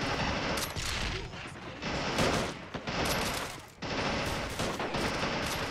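Machine gun fire rattles in the Men of War: Assault Squad strategy game, long sustained bursts broken by brief pauses, loud and close with heavy gunfire layered densely throughout.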